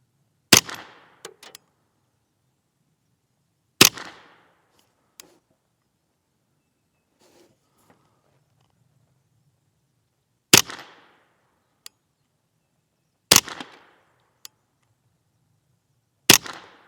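Beeman underlever air rifle shots, five sharp, loud cracks spaced several seconds apart, each with a short, quick decay, with faint small clicks and handling noises between them.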